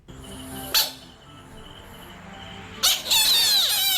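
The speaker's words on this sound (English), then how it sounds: "I never knew that a frog can sound like a rubber frog, like one of them little squeezy sounding frogs." A frog gives two short, squeaky calls like a squeezed rubber toy, one near the start and a longer one near the end, against a quiet background of steady insect chirring.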